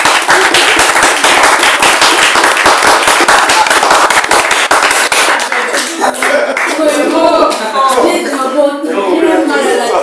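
A church congregation in Congo bursts into loud, sustained applause and acclamation, dense rapid clapping filling the space with voices shouting and cheering over it, the clapping thinning slightly toward the end as singing voices rise.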